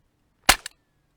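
A single sharp crack from an Umarex CO2-powered airgun fired at a backyard range, close and loud, with a short follow-up snap and quiet before and after.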